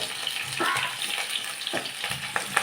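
Green chillies fry with onion, ginger and garlic in a pan, giving a steady close sizzle with scattered spatula scrapes and stirring knocks throughout.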